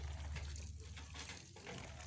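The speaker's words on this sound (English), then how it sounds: "I will water my plant" Coriander seedbed being watered, a steady wash of water pouring and splashing onto soil throughout, continuous and fairly close.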